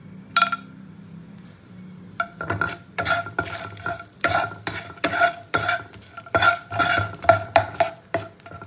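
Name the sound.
whole garam masala frying in hot butter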